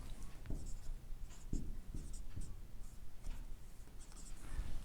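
Chalk or marker writing on a board during a solid geometry lecture, heard as scratchy strokes in short repeated bursts over steady room noise, close and moderately loud.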